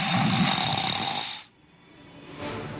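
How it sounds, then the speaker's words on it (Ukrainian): A man snoring loudly and close, one long rasping inhalation snore that cuts off abruptly, followed by a brief quiet gap and the start of the next softer breath. "Наш герой понял, что нужно срочно избавляться от храпа"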